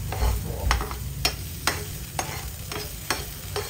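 Garlic and onion sauté in a hot pan for sinigang, a close sizzle broken by regular scraping strokes of a spatula, about one every half second, with no speech.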